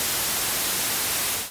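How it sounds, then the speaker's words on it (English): Steady, loud broadband white noise of the kind used in glitch music, a continuous hiss that cuts off abruptly after about a second and a half. "his music is known for its use of glitch sound and white noise"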